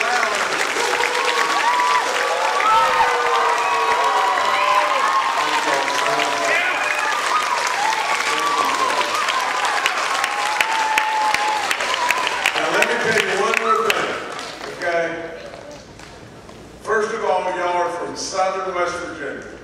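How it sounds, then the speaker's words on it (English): Loud applause with cheering and whoops fills an elementary school gathering for a governor's visit in southern West Virginia, sustained and dense, then dipping briefly before a second burst; voices shout over it. "Please give them a round of applause like you can imagine"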